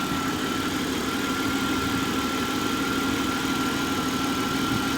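A 1996 Jaguar XJ6 engine idles smoothly and steadily, a constant low hum with a faint whine on top, with no voices.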